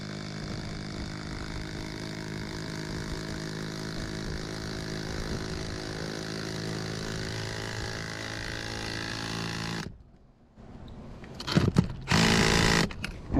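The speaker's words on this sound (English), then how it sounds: "these are lag bolts going into the rafters" An impact driver whines steadily as it drives lag bolts into roof rafters for solar attachments on an asphalt shingle roof, a continuous close mechanical drone for about ten seconds before cutting off, followed by short bursts of the tool.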